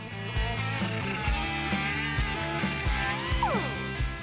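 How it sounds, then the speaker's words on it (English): A cutoff wheel slices through the lip of a universal fender flare on a '92 Camaro autocross build, giving a loud, steady mechanical whine with a rapid ratcheting buzz that ends in a falling pitch as the tool spins down. "we're going to use a cutoff wheel to make our cut"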